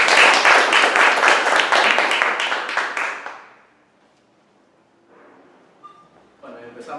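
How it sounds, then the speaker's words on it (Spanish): Strong audience applause for panelists at a left-wing debate event in a plaza, loud dense clapping for about three seconds that fades to near silence, followed by faint room noise and a voice starting to speak. "fuertes aplausos para ellos"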